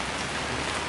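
Steady, humid rain falls in Fiji, a dense even hiss of drops on surfaces, close and constant for a brief moment with no voices.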